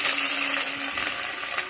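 Ginger dropped into hot oil for tempering in a Bengali home kitchen, a soft, steady sizzling hiss with faint crackles, fairly quiet and without talk.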